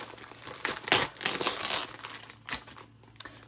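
Paper crinkles close to the microphone while a crochet kit is being unboxed, a short run of rustling and crumpling handling noises.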